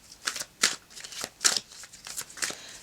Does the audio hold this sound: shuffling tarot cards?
yes